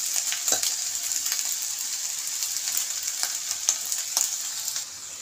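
Fried rice sizzling in a pan while being stirred, a steady frying hiss broken by repeated scraping strokes of a spatula, close and moderately loud, with no talk.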